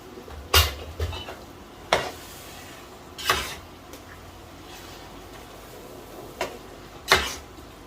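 A spoon mixes sweet zarda rice in a pot, giving a few scattered scrapes and soft knocks against the metal with quiet gaps in between, close and fairly faint.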